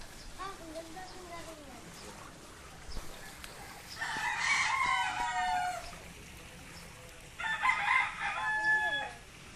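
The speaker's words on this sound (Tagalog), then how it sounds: "Nahuli ang manok." Chickens squawk and cluck loudly in two agitated bursts, nearby, with a person speaking in between.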